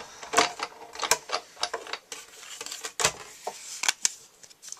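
Big Shot die-cutting machine pressing framelits through paper to cut a circle, a run of close, crisp mechanical clicks and ratcheting snaps in an irregular rhythm, with no talk.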